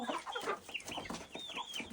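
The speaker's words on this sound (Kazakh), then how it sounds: "әзірге осы светлый брама тауықтары келді." A small flock of Light Brahma hens clucks and murmurs nearby, a busy overlapping run of short throaty calls and rising squawks, fairly quiet and close.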